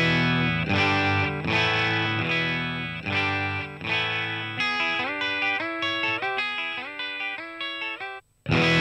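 A looped electric guitar phrase plays through a Morgan Dual 20 amp in EF86 mode: loud distorted chords strummed in a steady rhythm, then a run of single sustained notes, ending in a brief silence before the loop restarts.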